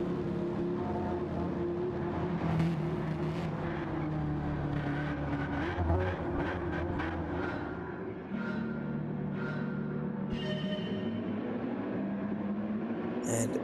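Race cars pulling away at the start of a Gran Turismo 7 Manufacturers Cup race behind a Lamborghini and a Mercedes AMG, with steady engine drone rising and shifting pitch, a few passing whooshes, and tyre and mechanical noises.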